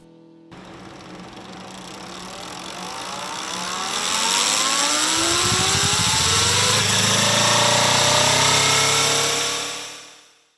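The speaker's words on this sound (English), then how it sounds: "It's a bike on a dyno." A Kawasaki hybrid motorcycle runs on a dyno, starting with a quiet electric whine, then a petrol engine joins and revs up into a loud, rising roar that holds steady before cutting off; no talking.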